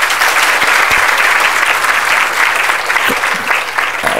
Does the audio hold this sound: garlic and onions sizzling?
no